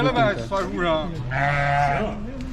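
Fat-tailed sheep bleat loudly and close by, one long wavering cry after another, with voices in the background, at an Eid livestock sale in front of a mosque in China.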